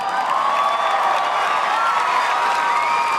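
A large crowd cheers and shouts steadily throughout, dense, loud and sustained with whoops and scattered higher voices, no single speaker standing out.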